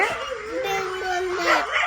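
A dog at feeding time, on a home where chickens are also fed, gives drawn-out whining howls and yips at close range, steady through the moment and partly mixed with voices.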